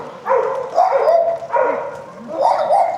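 Small but fierce dogs at a new shopping hall bark in several short bursts close by, loud and repeated with brief pauses between.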